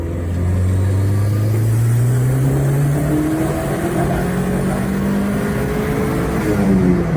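A rebuilt Vauxhall Nova GTE with a 2.0 turbo engine accelerating hard in third gear, its loud engine note climbing steadily in pitch over several seconds, heard close up from inside the car without talking.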